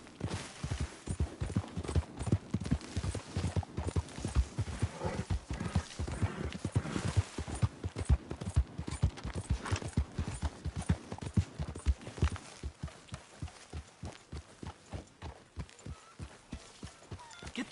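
Horse hooves gallop in Red Dead Redemption II, a fast, steady clip-clop rhythm that stays close and loud throughout, easing slightly toward the end.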